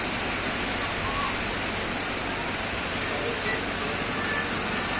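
Strong floodwater current during Typhoon Carina, a loud, steady rushing roar of water filling the whole clip with no clear breaks.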